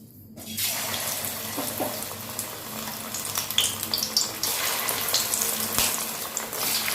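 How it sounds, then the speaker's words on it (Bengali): Chicken pakoras fry in hot oil with a loud, steady, bubbling sizzle that starts abruptly and continues close up, alone without voices. "তেলের মধ্যে চিকেন পকোড়াগুলো ছেড়ে নিই"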